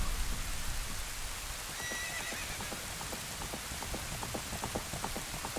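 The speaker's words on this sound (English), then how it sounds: "Out will appear a horse, rode by both Impa and Zelda" A horse in The Legend of Zelda: Ocarina of Time whinnies, then hooves clip-clop in a quick, steady rhythm over a constant rain hiss as a drawbridge drops.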